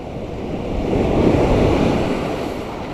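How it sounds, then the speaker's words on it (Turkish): Loud Black Sea waves surge and crash on the shore at Karasu in a swelling roar, with wind buffeting the microphone throughout. "Dalgalar yükseliyor. Deniz bize kızmaya başladı."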